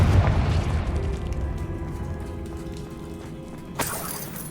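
A Confringo blasting spell in Hogwarts Legacy goes off as a heavy boom that decays into rumbling debris, followed by a sharp crack near the end, loud and close with no talk.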